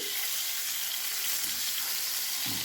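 Frozen garlic-ginger paste, about a tablespoon, fries in a pan for a chicken makhni handi, giving a steady, fairly quiet sizzle with a soft stir or spatter near the end and no talking.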